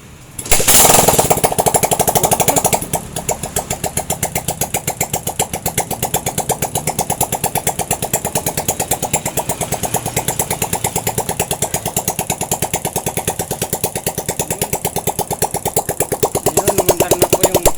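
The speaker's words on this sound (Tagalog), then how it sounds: "Ayun, umandar na po yung motor." A motorcycle engine with a modified exhaust pipe cranks and catches, revving loudly for a couple of seconds before dropping to a steady, rapid idle chug that continues throughout, close and loud.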